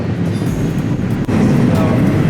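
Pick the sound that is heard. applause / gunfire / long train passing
long train passing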